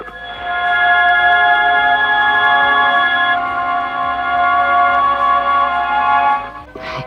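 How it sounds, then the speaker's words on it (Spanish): Crop circle shapes transcribed onto a musical score and played back as music: steady sustained tones held in layered chords, loud and continuous for about seven seconds, with a brief higher flourish near the end. "eso es el sonido de estas figuras pasadas al papel de la partitura"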